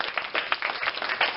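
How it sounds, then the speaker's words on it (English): A brief burst of clapping from children and families at a family music workshop, with quick overlapping hand claps at moderate volume and no voices over them. "Clap for yourselves."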